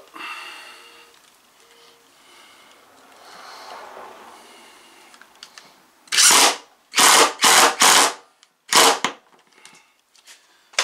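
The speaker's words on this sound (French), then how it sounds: "Là, on va visser ça." A power drill drives screws into a workbench built from salvaged materials, giving several loud, close bursts with short pauses between them after a quiet stretch.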